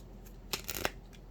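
Oracle cards shuffled by hand in a brief burst of soft riffling and slapping, close and quiet, set against a faint steady background.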